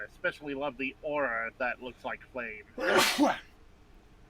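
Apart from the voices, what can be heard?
sneeze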